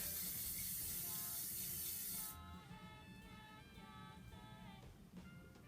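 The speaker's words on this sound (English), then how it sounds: "that's just going to need a lot of hairspray" Aerosol hairspray misted onto a 1940s-style hairdo, one steady close hiss lasting about two seconds before cutting off, leaving a quiet room with faint background tones.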